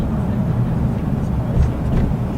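Road traffic at sunset rumbles as a steady, close low roar of passing vehicles, with faint speech-like sounds over it.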